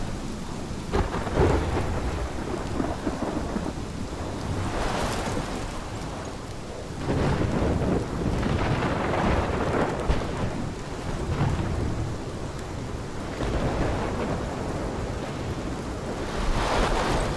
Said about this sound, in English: This is my storm.